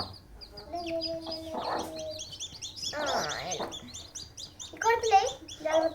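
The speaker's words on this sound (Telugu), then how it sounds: "మధు ఫస్ట్ కోడి పిల్లలు వేసేయి మెల్లగా" Baby chicks chirp in short high bursts, with several busier flurries, over a low background murmur and some quiet voices nearby.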